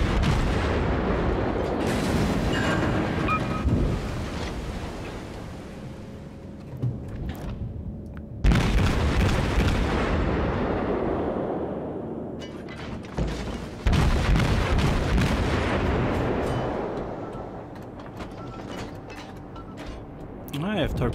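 Heavy naval gunfire in World of Warships from the light cruiser Tenryu's battle, with several loud booming salvos spaced across the stretch and rolling rumble between them while a player talks.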